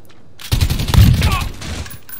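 A short, loud burst of rapid gunfire rattles close by in a hardcore team deathmatch of Call of Duty Modern Warfare.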